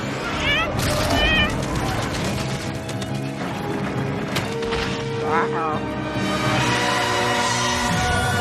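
A cartoon cat meows repeatedly amid a busy, loud animated soundtrack with music, crashes and characters speaking, the meows rising above the dense mix at several points.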